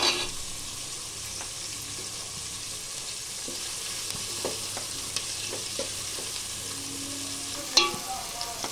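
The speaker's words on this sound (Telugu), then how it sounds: "తిప్పినాక అప్పుడు అల్లం వెల్లుల్లి పేస్ట్ వేస్తాం." Ginger garlic paste sizzles and fries in hot oil in a pan while being cooking for chicken pulao, with a steady hiss and occasional stirring scrapes and clinks, close and fairly quiet, with no talking.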